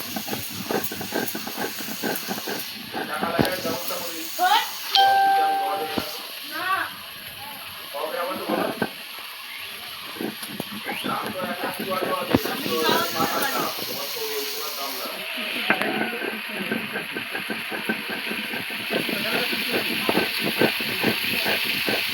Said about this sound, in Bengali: এবার আমি জিরে বেটে নেব।